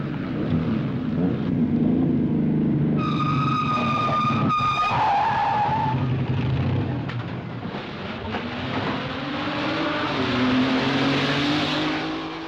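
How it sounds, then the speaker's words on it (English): A 1950s race car comes into the pit in trouble, tires screeching in a long skid over a loud engine roar, with a sharp high whine and a brief clunk partway through. "It's Hans Brecht with the Meyer Linz, and he's coming into the pit."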